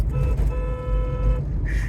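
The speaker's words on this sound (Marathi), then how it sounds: "तर हॉर्न वाजत आहे" A car horn, sounded by a button fitted on the steering wheel, blares in a steady tone for about a second, then a second shorter higher honk sounds, close and loud over engine hum.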